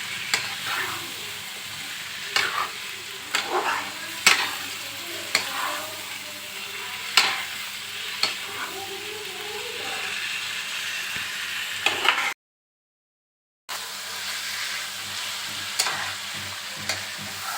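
Chicken with spices sizzles and fries in a pan while a spoon stirs and scrapes it in repeated sharp strokes over a steady frying hiss, with a short total silence partway through.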